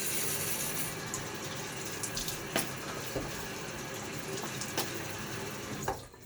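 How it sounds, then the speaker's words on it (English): Running water pours steadily with soft splashes and a few sharper slaps as soft water is splashed on a face before shaving, close by and continuous throughout. "Throw a little water on my own face."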